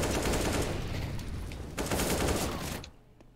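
Sustained automatic gunfire in the video game Counter-Strike, a loud continuous burst of rapid shots that breaks briefly and resumes before cutting off into quiet.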